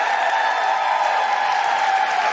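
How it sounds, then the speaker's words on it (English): Sustained audience applause at a live comedy podcast recording, a dense steady wash of many hands clapping without a break, loud and close throughout. "please keep that applause going for the incredible Grace Petrie!"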